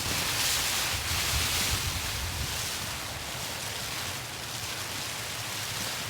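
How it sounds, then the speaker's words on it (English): Heavy rain drums steadily on a tent during a solo camping trip in a rainstorm, a dense, continuous close-up roar with gusty swells and no voices. "Incoming rainstorm."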